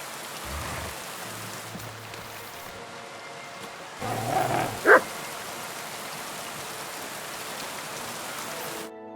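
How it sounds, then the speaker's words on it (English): A dog barks once or twice in a medieval village in the video game Kingdom Come Deliverance 2, a short sharp burst mid-clip over a soft, constant patter of rain. "You better call back that dog!"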